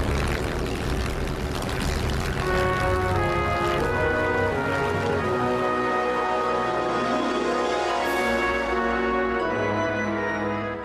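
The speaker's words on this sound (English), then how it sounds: "With a last look round for other aircraft, I turned into wind and opened the throttle." A Spitfire's piston engine roars at full throttle for take-off, a loud, steady, dense drone with strong harmonic tones that holds throughout, rising slightly in pitch toward the end, with no voices.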